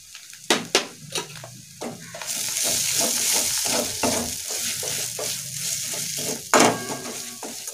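Coarse poppy seed paste dropped into hot oil and stirred in a pan: sharp spatula knocks first, then a steady close sizzle with scraping strokes and another clatter near the end.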